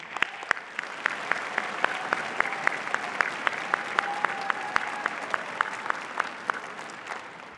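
Sustained audience applause fills a commencement ceremony for the Berkeley School of Education after the keynote speaker's remarks, steady dense clapping with a few sharper individual claps standing out throughout.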